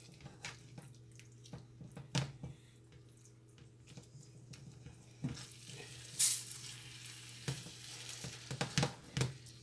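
Seasoned Jamaican beef patty filling cooking in a pot on a stove, giving a faint, steady sizzle with a low hum behind it and scattered small clicks and stirring scrapes.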